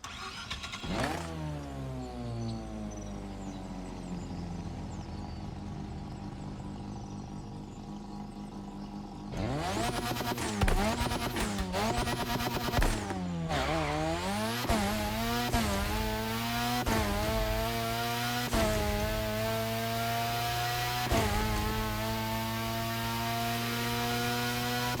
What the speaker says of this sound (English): The next engine sound is the rotative engine.